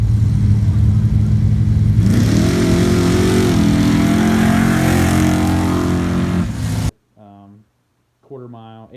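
A four-wheel-drive race truck built for dirt drags engine revs loud and steady, its pitch climbing and holding before cutting off abruptly, followed by brief quieter engine bursts.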